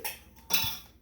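A glass mason jar being rinsed and handled gives off a couple of quick, faint clinks and knocks, brief and close, with a light watery hiss between them.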